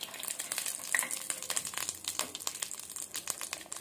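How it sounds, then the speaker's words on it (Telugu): Ginger garlic paste frying in hot oil for a village-style raw mango pickle, giving a dense, steady crackling sizzle with sharp pops and spits throughout, close up with no talking. "ఈ ఆయిల్ లో మనం అల్లం వెల్లుల్లి పేస్ట్ వేయాలి కదా"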